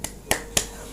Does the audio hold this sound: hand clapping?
yes